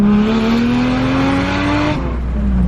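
A forged twin-turbo Toyota Chaser screams at high revs on a dyno, the engine note climbing steadily for about two seconds before dropping off sharply, loud and close.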